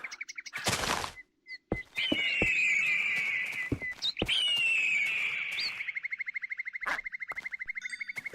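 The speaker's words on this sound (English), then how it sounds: "That's supposed to be the ruby bird" Ruby bird calls from Minecraft ring out loud and close as repeated shrill chirps and warbling trills, with sharp clicks between them and a fast rattling trill near the end.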